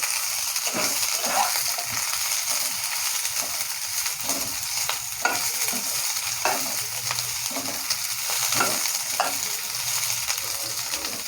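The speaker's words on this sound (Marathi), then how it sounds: "भेंडी आपल्याला भाजून घ्यायचं तेलामध्ये चांगली." Okra sizzles and fries in a little oil in a pan on a gas stove, a steady crackling hiss punctuated by periodic scraping stirs, close and continuous with no talking.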